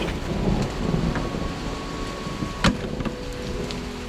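Rain and thunder during a drive on the road from Rayong to Pattaya, Thailand: steady rain wash and wind noise throughout, with a single sharp thunder crack near the middle standing out briefly.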